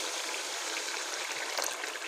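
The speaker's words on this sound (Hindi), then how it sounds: "पानी डाल दीजिए" About half a cup of water is poured into a pot of vegetable biryani with potatoes and peas, giving a soft, steady splashing rush that is faint and brief, with no talking.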